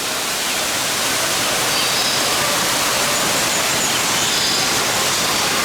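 Steady broadband rushing of a waterfall in a big aquarium fish tank at the National Aquarium in Baltimore, constant and fairly loud, filling the whole clip with no breaks or voices.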